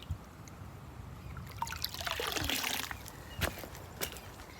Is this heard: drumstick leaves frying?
no